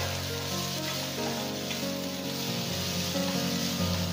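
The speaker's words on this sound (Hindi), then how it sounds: "अब इन सब्जियों को हम हाई फ्लेम में 2 मिनट के लिए फ्राई करेंगे।" Cabbage, carrot and capsicum with salt frying on a high flame for spring roll filling hiss in a constant, loud sizzle, with a faint melodic tone underneath.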